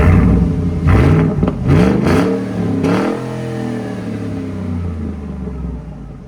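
A 2014 Ford Raptor with the 6.2L V8 and a Carven TR-Series exhaust is revved several times in quick, loud blips, then settles into a deep, steady rumble at idle.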